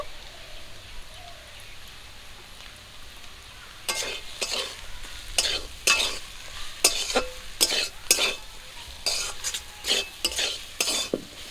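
Potato frying in a pan as pre-roasted spice powder goes in, cooked as filling for Bengali egg chops. After a quiet start, a spatula stirs in a steady run of sharp scraping strokes over a continuous sizzle, close and fairly loud.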